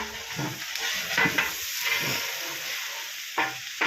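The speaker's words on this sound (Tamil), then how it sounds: "அந்த பிரிஞ்சி சாதம் செய்து கொண்டிருக்கின்றோம்." Brinji rice being stirred and fried in a large pot for a temple food offering, with steady sizzling and repeated scraping stir strokes close by, no talk.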